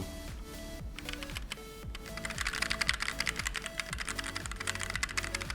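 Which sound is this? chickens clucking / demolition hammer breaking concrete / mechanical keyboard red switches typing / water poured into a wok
mechanical keyboard red switches typing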